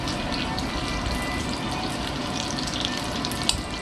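Sausage egg rolls frying in a pan, giving a constant dense sizzle and hiss close up with a faint pop near the end.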